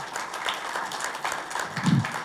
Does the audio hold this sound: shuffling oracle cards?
no